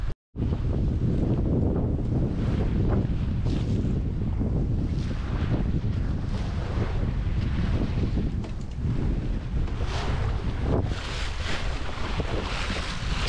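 Strong wind buffets the microphone aboard a sailboat under way, with boat and water noise, a continuous loud roar with gusty surges after a brief silent start.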